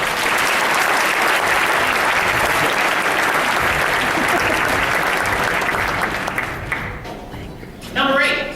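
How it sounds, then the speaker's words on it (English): Audience at a corporate philanthropy awards ceremony applauding loudly and continuously, the sustained clapping fading over the last couple of seconds before a voice comes in near the end. "So let's give applause to Genentech."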